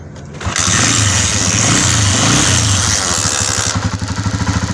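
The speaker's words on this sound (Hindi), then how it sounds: "हमारी बाइक पहले ही राउंड में स्टार्ट हो जाएगी" A Honda 125 motorcycle engine catches and roars to life after a kick, idling loudly with a rough, chugging rhythm close by.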